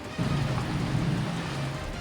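Heavy rain pours steadily over Metro Manila in the evening, a dense continuous hiss of downpour with a low rumble of thunder underneath, loud and close throughout with no voices.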